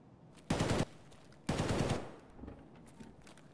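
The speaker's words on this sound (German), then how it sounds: "Irgendwie sind da immer Schüsse" Two sharp bursts of automatic gunfire in Escape from Tarkov, each a rapid rattle of shots lasting about a third of a second, separated by a pause, with a faint echoing tail and scattered quieter sounds after.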